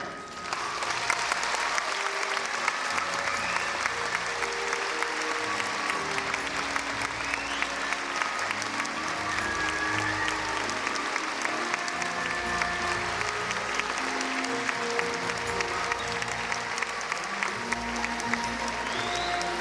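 Sustained audience applause after a Chinese performing arts show in Hawaii, a dense, even wash of many hands clapping that continues for about twenty seconds with little change in loudness.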